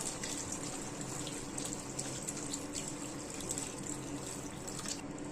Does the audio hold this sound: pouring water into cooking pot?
yes